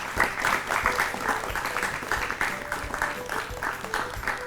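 Loud applause from a studio audience on a Hindi quiz-style educational show, sustained and rippling in uneven waves of clapping with faint background music underneath.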